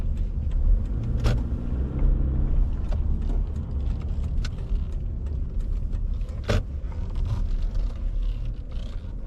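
A car driving through city streets in Corona, Queens, New York City, heard from inside as a steady low engine and road rumble with a few sharp clicks and knocks, and no talking.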